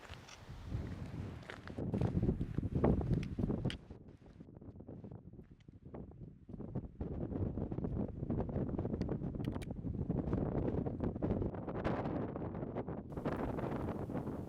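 Strong gusty wind buffeting the microphone on a Scottish mountain walk to the Altanour Munros, rushing loudly in surges that ease and return, with faint footsteps underneath and no talking.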